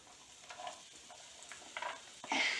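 Raw onions dropped into a pan over medium-low heat, giving a few short crackling sizzles and light stirring sounds, quiet and close, ending in a louder burst of frying.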